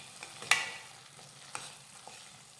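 A spoon stirs pre-roasted besan flour into matar paneer gravy in a pan, giving one sharp scrape near the start and then a few softer knocks under a faint, steady cooking background, with no talk.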